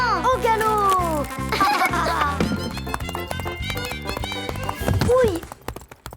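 Cartoon horses gallop with quick, rhythmic hoofbeats as children ride during spring cleaning play, the clip-clop mixed under bright music, excited children's voices and giggles.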